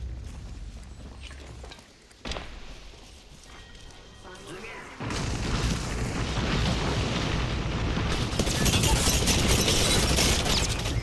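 A grenade going off in Apex Legends, with a sharp crack and then a loud, sustained roaring blast and rumble that swells and lingers, plus scattered game sounds and voices talking over the action.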